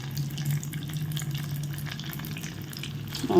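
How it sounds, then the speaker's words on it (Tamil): Sweet corn cutlets cook in hot oil in a kadai, giving a steady low bubbling sizzle that runs evenly throughout, with a brief louder burst at the very end. "இப்போ நம்ம இதை வந்து எண்ணெயில் போட்டு எடுக்க வேண்டியதான்"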